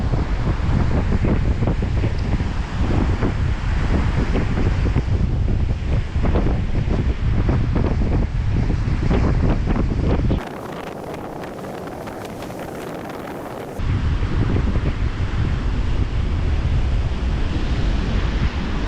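Strong wind on a seaside beach while a windbreak is set up, a loud continuous roar with surf mixed in and buffeting the microphone, easing for a few seconds mid-clip before returning.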